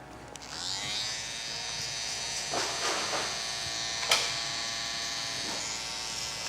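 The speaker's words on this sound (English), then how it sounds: "So now with my trimmer," Electric hair trimmer buzzing steadily through a barber's taper fade, a close, continuous whine with a few brief louder bursts as the blade meets hair.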